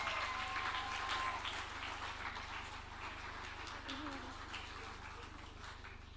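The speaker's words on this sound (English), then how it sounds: "Keep clapping, keep clapping." Steady crowd applause at a tech summit fills the whole stretch, a dense wash of clapping with murmuring voices mixed in underneath.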